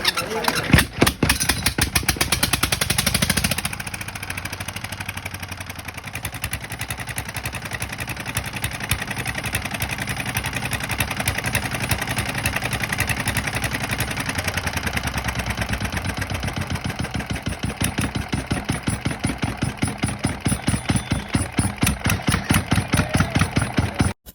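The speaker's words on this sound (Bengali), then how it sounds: "দেখলেন তো ইঞ্জিনটা আলহামদুলিল্লাহ স্টার্ট হয়ে গেছে।" A ten-year-old Chinese DF S1100 16 HP single-cylinder diesel engine, just repaired, cranks over and catches, then settles into a loud, steady rapid thumping idle that carries on close by for over twenty seconds.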